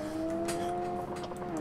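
Car tire spinning in BeamNG, a steady tonal whine held at constant pitch with faint scuffing bursts over it, close and moderately loud across the short span.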